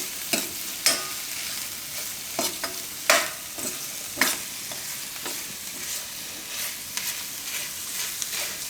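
Carrot and spinach sabzi, thin-sliced carrots with spinach and coriander, sizzles steadily in a pan while a spoon scrapes and stirs it, giving irregular sharp clinks over a continuous frying hiss, close by with no talking.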